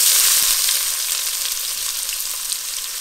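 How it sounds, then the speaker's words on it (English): Onions frying in a hot pan for masala lamb, a bright continuous sizzle that stays loud and even with a few light stirring touches. "we're gonna add our onions"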